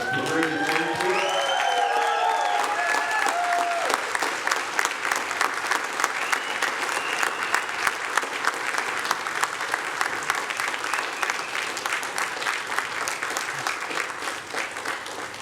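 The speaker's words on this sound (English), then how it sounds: "Another round of applause for the veterans that are delivering the stage." Sustained crowd applause for veterans leaving the stage at a celebration event, with cheering voices at the start before settling into steady, rapid clapping that continues throughout at a strong, even level.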